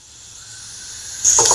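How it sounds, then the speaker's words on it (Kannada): A pressure cooker cooking chole hisses softly and builds, then lets out a sudden loud, sharp whistle blast near the end. "ನೋಡ್ಬೋದು ಫ್ರೆಂಡ್ಸ್ ವಿಸಿಲ್ ಬರ್ತಾ ಇದೆ"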